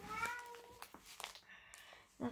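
A cat meows briefly amid some rustling and handling noises, fairly close, with a short sharp cry near the end.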